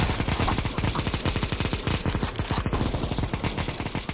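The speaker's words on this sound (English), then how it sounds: "Wait, stop shooting for like 2 seconds." Sustained automatic gunfire in CS:GO, a fast, evenly spaced stream of loud close shots rattling for several seconds without pause.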